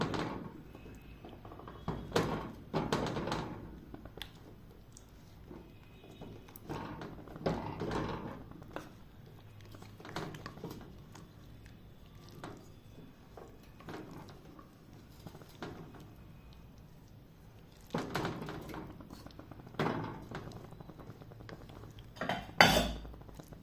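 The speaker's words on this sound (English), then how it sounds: "it's time to start stirring using a wooden spoon. You can stir it a little and mash" A wooden spoon stirs and mashes fava beans in a pot with irregular knocks and thuds against the sides, close and fairly quiet, in bursts separated by pauses.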